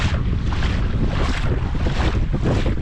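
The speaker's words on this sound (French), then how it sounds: "Il y a un peu du vent, malheureusement." Strong wind blows on a beach, buffeting the microphone as a constant loud, broadband rush. Surf may be mixed in, and no voices are heard.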